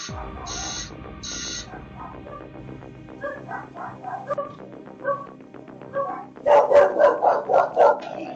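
A guard dog barks in quick bursts, a few scattered woofs at first and then a loud, rapid run of close barks toward the end, with no speech.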